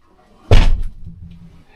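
A door in an abandoned house deep in the woods gives one sharp, loud knock or slam, followed by a short rumbling scrape and then quiet.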